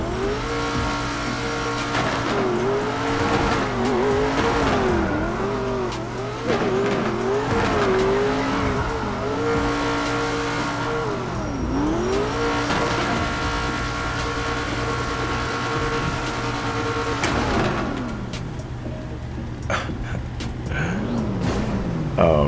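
A Dodge Durango driven in GTA 5 with a modded engine note, revving up and down in repeated sweeps with tire squeals, steady and close throughout with no talk.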